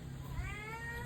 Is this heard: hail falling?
no